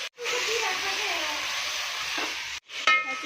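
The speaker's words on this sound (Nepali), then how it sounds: "चिकन यसरी फ्राई गरिरहेका छौँ हामीले।" Chicken pieces and onions fry in hot oil with a loud, steady sizzle that stops briefly near the end before flaring up again, with light stirring noises mixed in.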